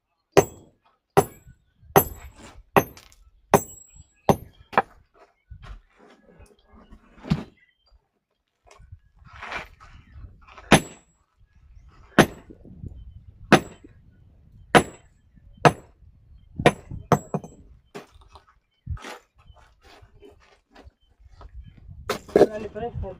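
Hand hammering and cutting stone with a chisel, sharp metallic strikes ringing out in irregular bursts of single and rapid blows, close and loud, with scraping and low handling noise between them.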